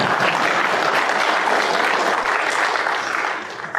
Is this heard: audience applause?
yes